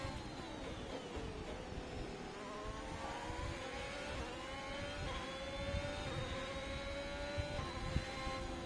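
F1 2021 race car engine in the video game, a loud, steady high-pitched whine with rising and falling harmonic tones as revs shift, running continuously with no talk over it.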